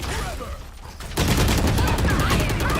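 Gunfire rattles during a Valorant match near C site, a quieter lull giving way to a loud, sustained burst of rapid shots and clattering effects that continues to the end.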